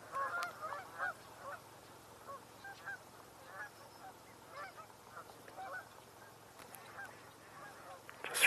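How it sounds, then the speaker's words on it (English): A mallard duck calls outdoors in a string of short, raspy quacks at moderate distance, fairly faint against a low background rumble, with no talking. "Just heard a mallard."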